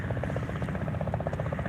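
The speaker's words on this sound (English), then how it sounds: "Oh, here's the helicopter coming back in." Helicopter rotor thumping in a steady fast pulse as it flies in near a zoo's palm and pine grounds in Geelong, Australia, loud and continuous throughout.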